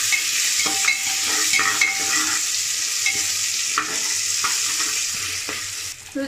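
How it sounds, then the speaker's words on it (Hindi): Chopped onions sizzle steadily in hot oil inside a pressure cooker, a constant loud frying hiss broken by repeated scrapes and clinks of a stirring spoon against the metal pot. "जैसे ही आप अनियन डाल दें इसको अच्छे से सॉटे करिए"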